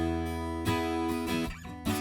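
Sustained, bright guitar chords ringing continuously through a Neve 1073 EQ plugin with a shelf boost, with a few fresh strums over the held notes; full, close tone and no voices.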